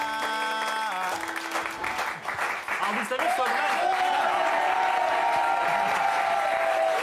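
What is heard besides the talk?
studio audience applauding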